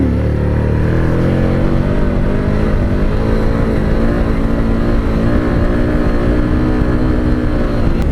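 A Harley-Davidson Street Rod 750 motorcycle rides along with a loud, continuous engine drone and rising and falling revs, heard up close over steady wind rush, with no voices.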